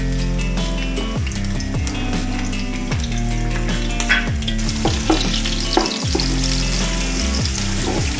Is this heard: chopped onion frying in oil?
yes